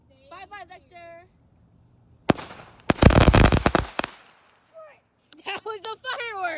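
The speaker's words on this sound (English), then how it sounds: "That was a firework!" Fireworks burst at night in a quick cluster of loud, sharp cracks and bangs, with excited voices talking and shouting just before and after.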